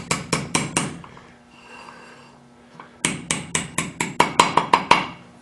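Sharp metallic hammer taps in quick bursts driving a steel drill-rod pin into a hole, about five, a pause, then about ten more ringing strikes, close and loud.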